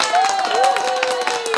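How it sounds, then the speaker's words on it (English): A small group at home claps and cheers together in a brief, lively burst, with voices calling out over the quick, uneven clapping close by. "let's do an applause"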